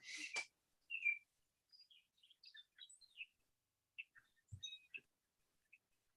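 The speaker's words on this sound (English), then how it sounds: "I hear the birdies going" Small birds chirp and tweet faintly in the distance, a scattering of short, high calls that come in irregular bursts against quiet background.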